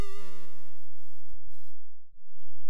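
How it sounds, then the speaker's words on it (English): A bright chiptune-style synth tone from a ZX Spectrum Next holds for over a second, then a lower, buzzier copy of the note follows like an echo an octave down. "if I drop the octave down by one step, the delayed note, or the echoed note, will sound like this"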